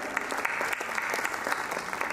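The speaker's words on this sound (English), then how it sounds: "A huge round of applause for all of them again." Applause from a school annual day audience, a steady dense patter of many hands clapping continuously throughout, fairly loud and without a clear break.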